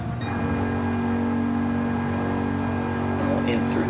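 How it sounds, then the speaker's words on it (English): Race cars from an F1 GT3 endurance race at Road Atlanta in Gran Turismo 7 roll into the pits, a steady engine drone with a held tonal whine that stays loud and even throughout, with commentary voices talking over it. "As the cars now make their way into the pits"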